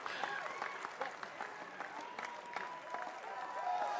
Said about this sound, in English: Round of applause for all of the athletes competing in the powerlifting competition of the 2019